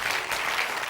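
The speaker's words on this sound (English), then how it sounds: "another round of applause to take him back to his seat" Studio audience on the Blockbusters TV quiz show applauding steadily, a dense wash of clapping from a full room that holds at an even level throughout the short burst.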